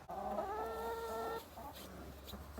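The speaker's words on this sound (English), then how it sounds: "These are my chickens." A chicken gives a drawn-out, close cluck for about a second, then quieter clucks and soft rustling follow.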